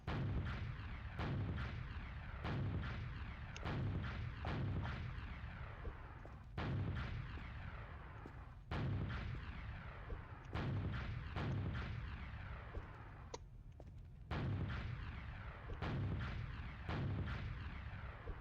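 Repeated rocket launcher blasts from Team Fortress 2 rocket jumping, a steady series of loud booming explosions every second or so, overlapping with continuous game noise and no speech.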